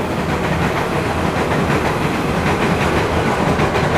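A train rumbles past close by, loud and continuous, with rhythmic rattling of the cars over the rails.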